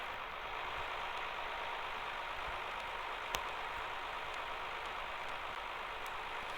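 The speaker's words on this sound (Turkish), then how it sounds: "Dedemden kalan traktör bayağı iyi." A tractor engine from the Farming Simulator 23 video game runs at a steady idle, a continuous even drone with no pauses and a single brief click midway.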